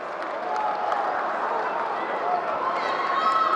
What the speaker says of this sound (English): The crowd screams.